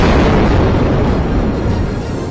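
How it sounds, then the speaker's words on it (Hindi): A massive explosion booms and rumbles in the Israel–Hamas war around the Gaza Strip, a loud sustained blast that slowly fades. "एक धमाका तो इतना जबरदस्त था कि कान के पर्दे फट जाएं।"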